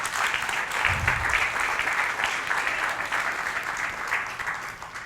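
Church congregation clapping at a worship service, a dense continuous round of applause with a brief low thump near the start.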